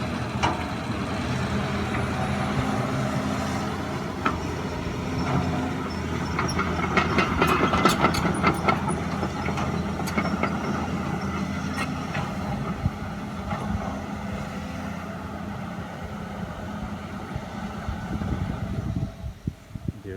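A Cat 320D2 excavator with over 7,000 hours of use, spreading fill soil: a continuous heavy diesel rumble with scattered metallic clanks and rattles, close and loud throughout, with no talking.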